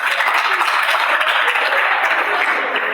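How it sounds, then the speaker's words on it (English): A lecture-hall audience breaks into a steady round of clapping, a dense, loud patter of many hands lasting a few seconds with no clear speech over it. "Why are you clapping?"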